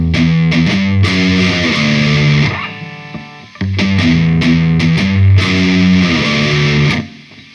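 A distorted electric guitar plays a slow riff, chugging chords with a short break midway before resuming, loud and unaccompanied by speech.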